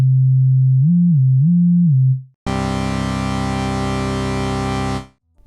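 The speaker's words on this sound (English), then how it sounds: "you could use a very low sine wave as the modulator to mix it with the texture of a rich carrier to" A low sine tone wobbles alone at first, then a vocoder driven by a low sine modulator over a rich carrier produces a sustained, buzzy, gritty bass note lasting several seconds before cutting off, with no voices.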